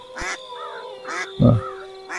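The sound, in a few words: goose quacking in a stop-motion animation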